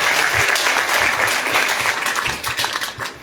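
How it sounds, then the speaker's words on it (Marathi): A live audience applauds loudly and steadily for a singer at a concert, dense clapping filling the whole stretch and thinning slightly near the end. "एकदा स्मितासाठी जोरदार टाळ्या झाल्या पाहिजे."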